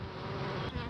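Dense, steady buzzing of honey bees around newly emerged queen bees on a grid in a queen-rearing setup, a continuous close hum with no voices.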